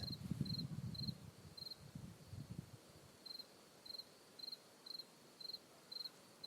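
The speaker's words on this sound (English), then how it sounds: "I'm not sure if you can hear it, but there's a cicada in the distance." A cicada chirps in short, regular bursts, faint and distant in a quiet night setting, with a low rumble of movement early on.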